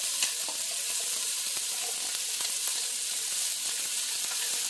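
Bell pepper and onions sizzle steadily in a hot buttered pan, a constant close hiss of frying with faint scattered stirring clicks, no voices.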